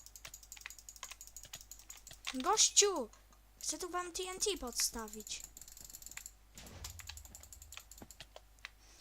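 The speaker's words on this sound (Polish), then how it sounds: "Możecie słyszeć bardzo dziwnie mojego shifta i w ogóle klawiaturę." A computer keyboard, including a shift key, clatters with quick irregular key clicks during a Minecraft BedWars game, while a voice talks loudly over the typing.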